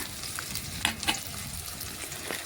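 Onions fry in a pan with a steady soft sizzle and a couple of brief stirring scrapes, close and continuous, with no voices.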